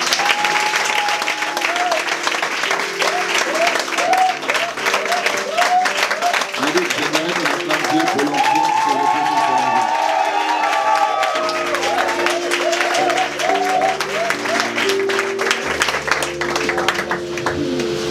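A church congregation applauds and cheers to acclaim God, sustained loud clapping from a large crowd with whoops and voices mixed in, continuing unbroken throughout.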